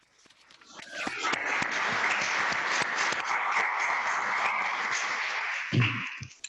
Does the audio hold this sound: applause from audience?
yes